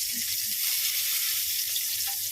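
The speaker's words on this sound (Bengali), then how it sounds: "বেগুন ভাজা বসিয়ে দিয়েছি গোল গোল গোল গোল করে বেগুন ভেজেছিলাম" Round brinjal slices fry in a pan, giving a constant soft hissing sizzle with a few faint pops, close by and unchanging for the whole stretch.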